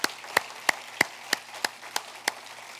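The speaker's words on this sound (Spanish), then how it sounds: "Dale fuerte ese aplauso al Señor." A church congregation claps in unison, eight or nine crisp hand claps at a steady rhythm, fairly close and with nothing else heard between them.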